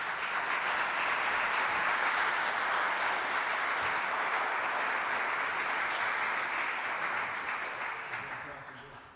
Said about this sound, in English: A round of applause, please, for Ken.